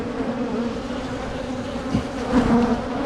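Honeybees drone steadily inside an open hive, a dense, continuous close buzz that swells slightly louder near the end.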